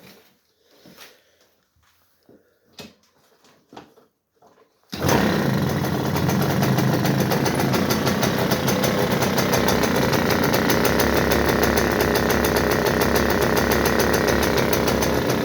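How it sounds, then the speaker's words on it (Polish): A Romet Komar moped engine catches after a few quiet moments and settles into a loud, steady, buzzy idle that runs on unbroken to the end, close by with no talk over it. "silnik jeszcze zaczął tak ciszej pracować, nie szumi już tak jak wcześniej"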